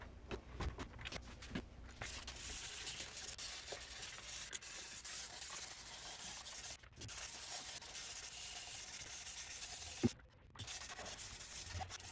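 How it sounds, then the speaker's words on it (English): Steady wet sanding with 1200 grit sandpaper on a HuskyLock 901 part, a continuous close rubbing hiss that runs the whole stretch with only brief breaks. "used wet sanding with various grits, but I ended up with 1200 grit"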